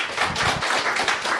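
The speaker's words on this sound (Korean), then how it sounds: "우리 박수로 한번 환영하겠습니다" A church congregation bursts into applause to welcome the pastor to the pulpit, a dense, steady wash of many hands clapping at close range with no talk over it.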